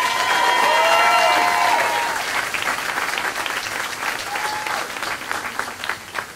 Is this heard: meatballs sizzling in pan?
no